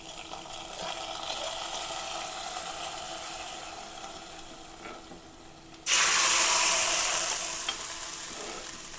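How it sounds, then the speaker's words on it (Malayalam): Hot tempering with curry leaves poured into a simmering prawn curry, the steady low cooking hiss jumping to a loud, bright sizzle halfway through that slowly fades, with no talking. "ഇനി ഇത് നമുക്ക് ചെമ്മീൻ ചാറിലേക്ക് ഇട്ട് കൊടുക്കാം."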